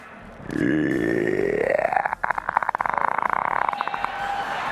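A cosplayer at a cosplay contest lets out a long, guttural belch at the audience, rising in pitch and then breaking into a rattling, croaking growl that runs several seconds, loud and close.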